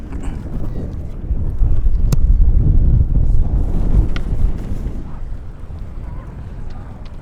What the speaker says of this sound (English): there's a gust of wind coming